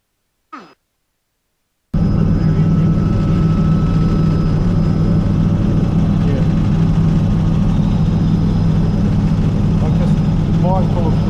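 A Robinson R66 helicopter in flight makes a loud, steady engine and rotor roar, heard from inside, continuous and unchanging after a brief silent pause at the start.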